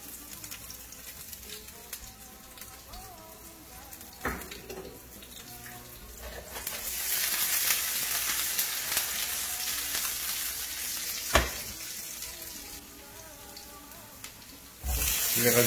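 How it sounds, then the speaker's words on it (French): Garlic and chili peppers drop into olive oil in a pan, with a steady sizzle that swells in the middle, broken by a few sharp knocks of a utensil, heard close under faint background noise. "On va plonger l'ail et les piments."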